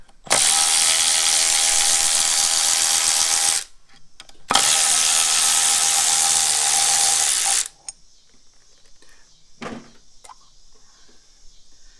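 A ratchet working on the thermostat housing of a 2008 Subaru Impreza 2.5, heard as two long, loud, close bursts of rapid mechanical whirring about three seconds each, followed by quiet clicks and taps.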